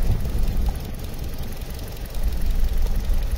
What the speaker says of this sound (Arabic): عند الوصول لدرجة حرارة المناسبة بتعمل مراوح التبريد